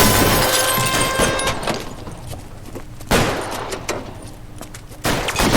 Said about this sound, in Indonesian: Tembak-tembakan coy.